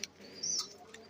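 Racing pigeons arriving at a home loft after a 244 km derby race give a brief chirping call and faint cooing, quiet and close over a low background hum.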